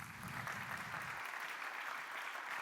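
Steady audience applause welcoming a speaker onto the stage at an inaugural conference talk, a dense, even wash of clapping heard from a moderate distance without voices.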